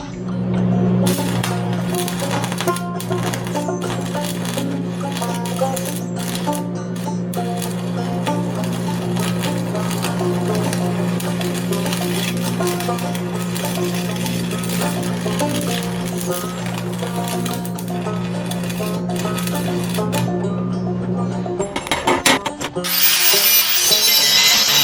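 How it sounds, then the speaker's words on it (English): Arc welding on a steel alternator bracket for a 1965 Chevy 283 engine, a steady loud electrical hum and crackle running continuously for over twenty seconds before cutting off abruptly. "I'm gonna put some more weld on that."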